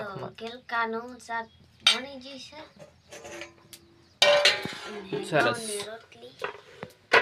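Cooking spoons clink against pots while a vegetable curry and rotis are made, giving a few sharp metallic knocks beneath nearly continuous talking.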